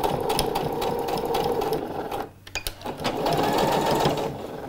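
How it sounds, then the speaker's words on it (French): A sewing machine runs a quick burst of stitches and then a few backstitches close to a zipper's teeth. The motor gives a steady, rapid, close-up whir, breaks off briefly in the middle, then starts again. "Je vais faire quelques points en arrière. Voilà, piquer au plus près des dents."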